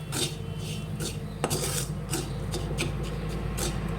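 Spoon stirring and scraping a thickening sesame and caramel mixture in a pan on a gas stove, rhythmic scratchy strokes close up over a low steady background hum.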